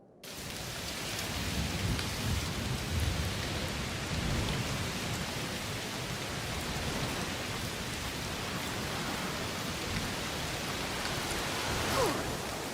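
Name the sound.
heavy rain in the video game A Plague Tale: Requiem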